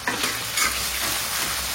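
Tomatoes with ginger and garlic fry steadily in a pan, a continuous close sizzle with soft stirring scrapes and no voices.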